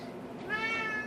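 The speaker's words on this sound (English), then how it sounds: "She's a very vocal cat, this Ivory." A senior cat at an animal shelter gives one short, close meow that rises and falls, with no talk over it.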